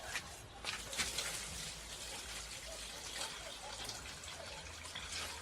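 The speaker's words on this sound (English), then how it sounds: "And then we will water the plants." Fertilizer water poured from a watering can onto plants, a faint steady trickle and splash that continues throughout.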